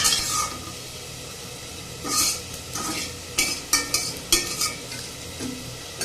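Bottle gourd leaf fritters sizzle steadily in hot oil in a wok, with a scattering of sharp clinks and scrapes from a utensil stirring and lifting them, close and clear with no voices.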